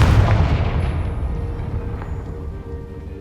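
A Confringo blasting spell in Hogwarts Legacy goes off as a loud, deep boom right at the start, then rumbles and fades away over a few seconds.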